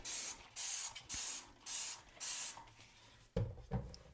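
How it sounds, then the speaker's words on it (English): Five quick bursts of Dawn Power Wash dish soap spray hiss in a steady rhythm, close by at a laundry room sink, followed by a couple of clattering knocks. "I like to spray it with some Dawn Power Wash"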